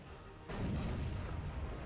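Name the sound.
gas grenade exploding in video game Dawn of War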